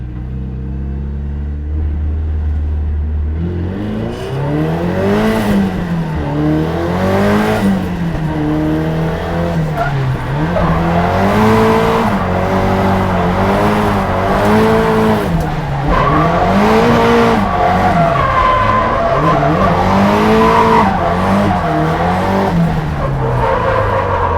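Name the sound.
Nissan 180SX race car driving a fast track lap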